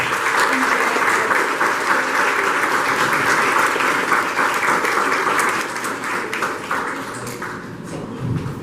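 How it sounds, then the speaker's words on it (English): Steady, dense applause from a large crowd for artists at an event fills the whole stretch, loud and even, easing off slightly toward the end. "please give our artists a round of applause"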